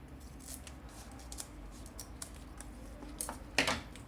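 Scissors snip straight through a zipper and fabric seam allowance while sewing a double trunk-style cosmetic bag, giving a series of crisp, close cuts with one louder final snip.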